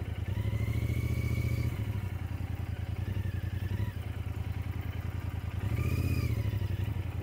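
A Royal Enfield Interceptor 650 motorcycle is ridden off-road, its engine note holding steady and then rising as it accelerates in close, continuous, loud passes.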